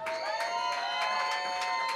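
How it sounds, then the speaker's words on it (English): Audience at a band gig in a Lower East Side club cheering and clapping, a steady wash of crowd noise with whoops and scattered claps rising through it, fairly loud and continuous. "will you guys clap your hands one more time and scream for the band?"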